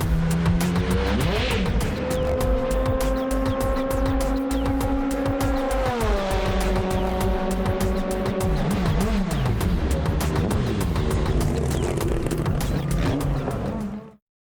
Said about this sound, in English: The car then put on some demonstration laps before being put on display with the other race cars.